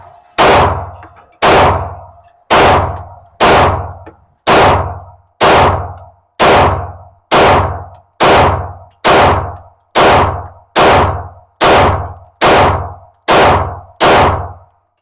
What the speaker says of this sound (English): this is 17 rounds of the Remington